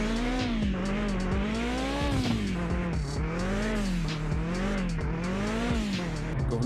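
A car drifts in the video game Mon Bazou with a steady engine roar and continuous wavering tire squeal that rises and falls as it slides, loud and without any speech.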